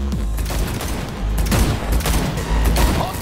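Rapid gunfire from the video game Cyberpunk 2077 during a car chase, dense bursts of shots layered over low rumbling booms and music, loud and continuous throughout.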